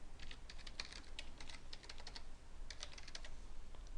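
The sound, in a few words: typing root username and password on keyboard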